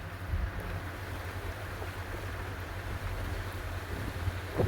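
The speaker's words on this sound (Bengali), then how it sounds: "আলহামদুলিল্লাহ, প্রচুর পরিমাণ বাতাস হইতেছে।" Strong wind blowing in Dubai buffets the microphone with a close, continuous low rumble and gusty swells that rise briefly near the start and end.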